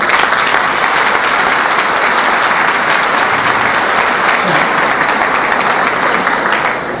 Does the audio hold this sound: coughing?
no